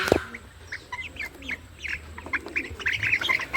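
Fayoumi and Brahma chickens squawk and cluck nearby in a series of short, irregular calls that grow busier toward the end.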